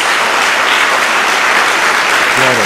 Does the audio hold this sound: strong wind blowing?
no